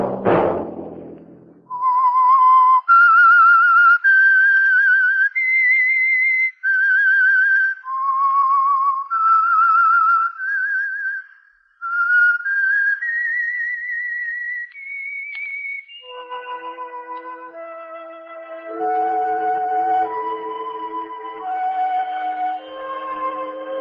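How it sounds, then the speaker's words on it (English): A whistled melody serves as the theme signal for a radio program. It is loud, clear and close, a single line of rising and falling notes that follows a short opening thump and moves into a lower, bouncier phrase near the end, with no voices. "Let that whistle be your signal for the Signal Oil program, The Whistler."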